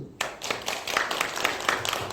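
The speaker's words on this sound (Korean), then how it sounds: "박수" A church congregation claps their hands together, a steady run of brisk, fairly close claps lasting a couple of seconds.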